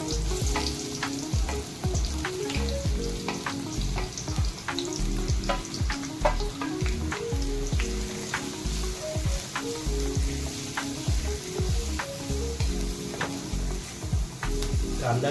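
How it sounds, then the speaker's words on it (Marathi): Onion and cumin seeds sautéing in hot oil just used to fry cluster beans, giving a loud, steady sizzle and crackle with occasional stirring scrapes throughout. "आता आपण त्या तेलामध्ये जिरा टाकत आहोत आणि कांदा परतून घेऊया."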